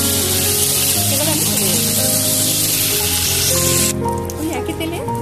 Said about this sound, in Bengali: এটা আমি হালকা ভেজে নেব, একেবারে হালকা ভেজে নেব।